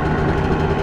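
An Italjet 180cc two-stroke dragster scooter engine runs at a steady, buzzing, close drone during a city ride, with no pauses or speech.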